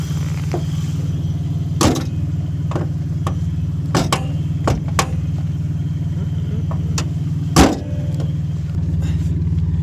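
A Subaru XT6 six-cylinder coupe engine runs without a muffler, giving a loud, steady low rumble throughout with a few sharp clicks and knocks on top.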